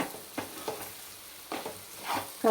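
Potato and carrot pieces frying in a pan for a kids' lunchbox stir-fry: a soft, low sizzle broken by a few quiet stirring scrapes, fairly faint.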